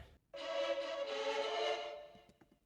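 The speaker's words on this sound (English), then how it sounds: "I've got some choir that I really wanted to have for this song" A choir sings a sustained, swelling chord for an epic, dramatic pop song, holding steady for about two seconds before fading out under a few soft percussive ticks.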